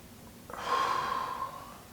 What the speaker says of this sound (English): So I'm going to breathe in.